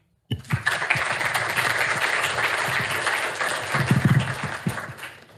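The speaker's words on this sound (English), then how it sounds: "please join me in giving a big round of applause for Johanna" An audience claps for a keynote speaker at a games and AI conference, the applause starting abruptly and continuing as a dense, fairly loud roll of hands with a few sharper claps standing out near the end.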